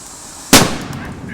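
A firecracker fired to scare an elephant stuck in a reservoir bursts with one loud, sharp bang close by, then a brief fading rumble.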